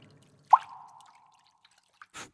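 A single water drop plops into a pool with a bright, close plink and a short ringing tail, followed by a couple of faint small drips in near silence.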